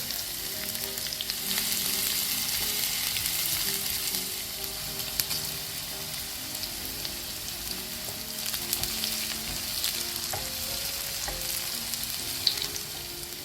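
Curry leaves, shallots, onion and dried chillies fry in hot oil for a Kerala mango curry, producing a loud, continuous crackling sizzle with scattered pops, close and with no one talking.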